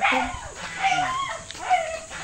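A dog yips and whines in short, high, repeated calls close by, sounding excited rather than barking deeply.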